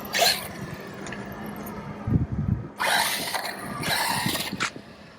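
MJX Hyper Go H16BM RC car accelerating on fresh, flat pavement at full throttle, giving short bursts of high-pitched electric motor whine and tire noise that come and go over a few seconds, fairly close.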